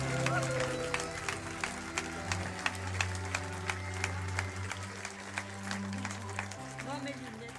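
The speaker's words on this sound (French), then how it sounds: "Amen, alléluia, une vraie acclamation pour Ginette, s'il vous plaît." Church congregation applause after a baptism, rhythmic clapping in unison with distinct regular beats over a sustained musical backing, with voices underneath.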